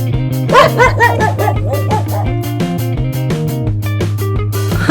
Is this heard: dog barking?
yes